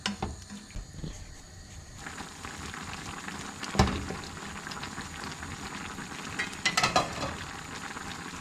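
Vegetables boiling in a pot on the stove, a steady, close bubbling and simmering hiss that runs throughout, with a couple of sharper clinks or pops along the way and no talking.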